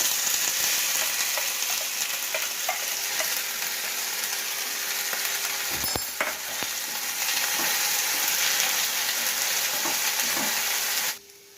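Vegetable filling fries in hot oil with asafoetida, a loud, constant close sizzle with occasional stirring scrapes and clicks throughout, no one talking, cutting off abruptly at the end.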